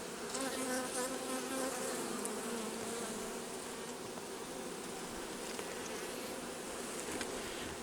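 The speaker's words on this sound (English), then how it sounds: "Some old bees." Honeybees at an open hive in early fall make a dense, continuous buzzing swarm drone, steady and close for the whole stretch without speech.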